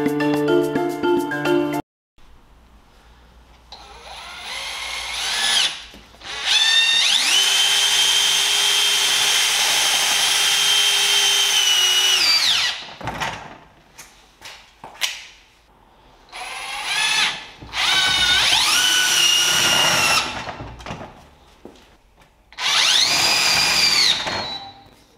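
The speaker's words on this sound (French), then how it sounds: "on va passer aux essais de vissage. Pour ça, j'ai mis le Centrotech, un embout aimanté, un Torx 20 et on va visser ces vis là" A TPC 18/4 cordless percussion drill-driver with a magnetic Torx 20 bit drives screws in repeated whining bursts, motor pitch rising and bogging as each screw seats, close and loud with short pauses between.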